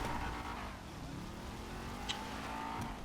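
A car in the video game GTA 5 drives and revs with a sustained engine drone and shifting pitch, plus a couple of short sharp clicks, heard alone.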